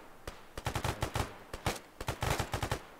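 Short bursts of machine-gun fire in a video game crack out in several quick clusters, loud and close, with brief gaps between volleys.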